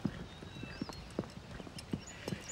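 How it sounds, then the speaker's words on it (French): A magnificent horse's hooves clip-clop in an irregular walking rhythm, light close knocks over a soft background with no speech. "Quel magnifique cheval."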